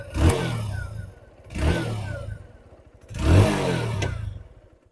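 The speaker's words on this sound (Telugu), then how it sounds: "స్టాండ్ మనం స్టాండ్ వేస్తే ఇంజిన్ ఆగిద్దా లేదా చూద్దాం" A TVS 110 Sport motorcycle engine, a 2025 model, runs on its stand, revving in three rising surges with a rough mid-pitched drone between them, close and fairly loud.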